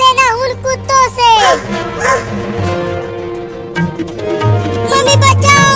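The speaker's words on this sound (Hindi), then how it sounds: "वो कुत्ता आ रहा है, उससे डरना मत औरत" A dog lets out several close bow-wow barks and yips mixed with whimpering, amid lively animated cartoon voices and music.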